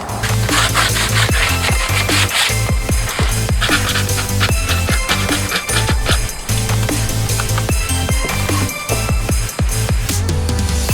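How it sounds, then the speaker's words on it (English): Sandpaper rubs briskly back and forth along the edges of a wooden cutout for a holiday lawn ornament, a loud, close, continuous scratchy rasp with rhythmic strokes and no talking. "I'm just gonna give it a light sand on the edges"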